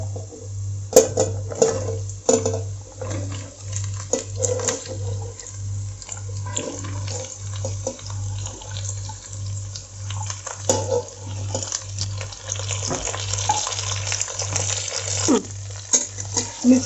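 Yam and vegetables stirred in a pan for Kerala aviyal, with a steady scraping and sizzling rhythm under a constant low hum, close and moderately loud throughout.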